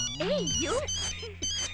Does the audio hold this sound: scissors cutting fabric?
no